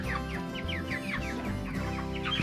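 Pastured meat chickens clucking and chirping close by as they are herded into a chicken tractor, with overlapping calls in a busy, continuous flock chorus.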